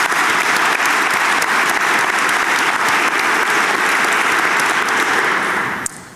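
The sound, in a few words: audience round of applause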